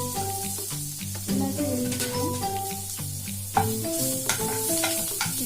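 Garlic and mace fry in hot butter in a pan as they are stirred, giving a steady close sizzle broken by scraping stirs and small clatters.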